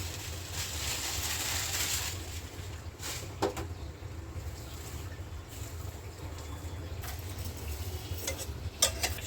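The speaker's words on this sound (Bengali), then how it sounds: "সেমাইটা উল্টে পাল্টে দিতে হবে" Vermicelli (semai) with fried nuts is tossed and stirred in a pan over low heat, giving a faint, steady sizzle with soft scraping strokes and a few louder clatters, quiet and close.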